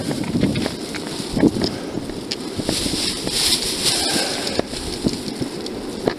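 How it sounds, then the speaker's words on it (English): Gusty, cold wind buffets the microphone outdoors in a constant rushing roar, with irregular bumps and thumps throughout while walking a dog. "It's cold out. It's windy out."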